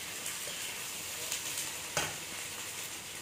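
Vegetables stir-frying in a home wok, with a steady sizzle and occasional stirring clatter, close and moderately loud, with no talk.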